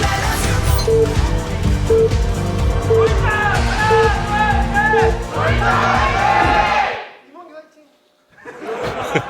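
A live crowd at the AfreecaTV StarLeague StarCraft semifinal gives a short cheer and chatter over loud stage music, which cuts out abruptly before a quieter burst of crowd noise at the end.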